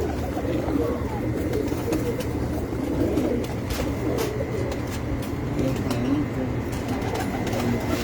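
Pigeons on a rooftop coo softly in low, repeated bubbling calls amid a busy background hum, with occasional faint clicks and rustles nearby.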